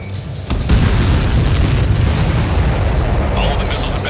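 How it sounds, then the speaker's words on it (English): Missiles exploding in Ace Combat 7: a dense, continuous wall of booming blasts and rumbling roar, loud and close, with a sharper burst near the start and a steady, thick rumble throughout. "All of the missiles have been destroyed."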